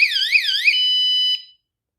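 A motorized bicycle's anti-theft alarm warbles loudly and rapidly up and down, then holds a steady piercing tone for a moment before cutting off into silence.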